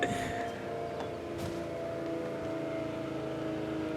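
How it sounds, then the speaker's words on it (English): A dump truck drives down a road at a distance, its engine a steady low drone that carries from far off and holds at a moderate level without talk. "Oh, it's a dump truck. I can hear that sucker half a mile down the road."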